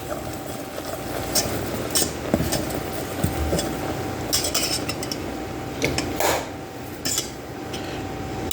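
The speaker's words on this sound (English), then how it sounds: "I am going to go ahead and whisk in my powdered sugar, my baking soda in here." A whisk clinks steadily against a bowl as powdered sugar and baking soda are stirred in for homemade honeycomb, a close, continuous metallic scraping and tapping with no talking.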